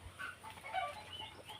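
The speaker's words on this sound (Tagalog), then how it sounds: "Nagpuputakan yung manok." Chickens cluck faintly and intermittently at a rural farm in the countryside, short scattered calls at a distance with no talking over them.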